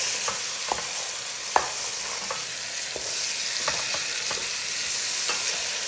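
Chicken frying in a pan with onion, spices and cardamom for kabsa sizzles steadily, with several sharp clanks and scrapes as pieces are stirred and flipped, close and alone without voices.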